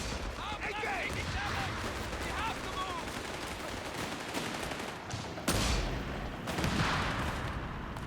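Mortar impacts and rattling gunfire crackle through a Company of Heroes 3 battle, steady dense combat noise with a sharp louder burst near the end and another shortly after.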